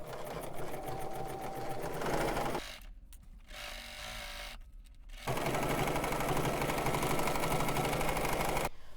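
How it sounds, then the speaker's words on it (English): A sewing machine stitches a 5/8-inch seam in fabric, running with a fast, steady mechanical whir, pausing briefly twice in the middle before resuming at full speed. "Let's head over to the machine and sew this down at 5/8 of an inch seam allowance"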